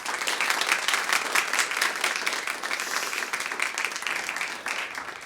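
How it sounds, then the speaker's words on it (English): Audience applause fills a lecture hall at a public science event on global biodiversity and extinction, a steady, dense wash of many hands clapping at even loudness for the full stretch with no talk over it. "Please give them a warm round of applause."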